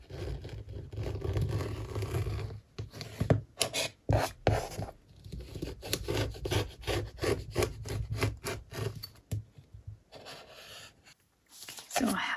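A jagged edge is cut off a board in a series of close, rasping sawing strokes, broken by short pauses and a few sharper scrapes, with no talking.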